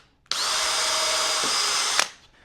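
Power drill driving a screw into the wooden fence of a cross cut sled, one steady high whine lasting under two seconds before stopping abruptly, close and loud with no talking.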